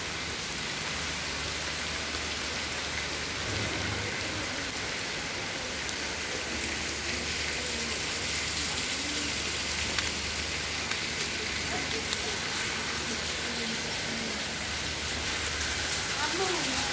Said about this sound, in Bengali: একটু বৃষ্টি পড়লে এদিকে পানি এই পড়ে রাস্তার ভিতরে